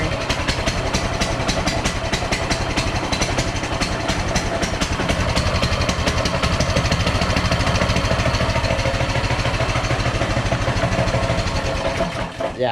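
A mini bike engine runs steadily after starting, a loud, close, rapid throbbing idle with dense, even firing pulses that hold for the whole stretch before dipping briefly at the end.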